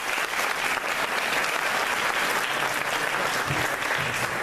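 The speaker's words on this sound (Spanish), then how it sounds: "Un aplauso." Sustained, dense applause from an audience at a cultural centre gathering in Spain, steady and loud throughout with no pauses.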